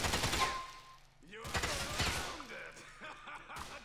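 Pistol fire in Grand Theft Auto IV, sharp gunshots in quick bursts separated by brief gaps, mixed with game mechanical clatter and what sounds like voices in the background.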